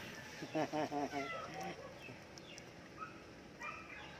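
A chicken clucks in a short burst of several quick calls near the start, followed by fainter intermittent bird and animal sounds in a household setting.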